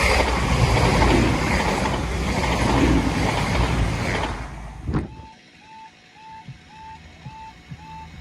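A train roars past the Beeston foot crossing for about five seconds, then cuts off sharply, leaving a regular electronic warning tone beeping at even intervals over quiet rail noise.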